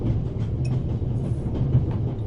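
A moving train in The Raven video game rumbles steadily with a low engine drone and faint rhythmic clatter, continuous and moderately loud with no voices.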